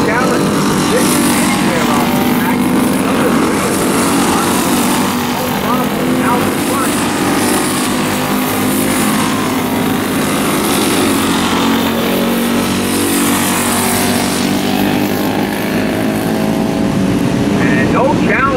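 Flathead four-cycle heavy vintage karts race at a VKA event in Barnesville, a continuous layered engine drone rising and falling as they circle the track, loud throughout with an announcer talking over it.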